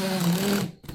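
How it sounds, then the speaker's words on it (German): A cordless drill buzzes and rattles loudly for a moment as its chuck works loose while boring, then cuts off abruptly into a brief faint tail. "Durch das Rappeln rappelt sich das Spannfutter los."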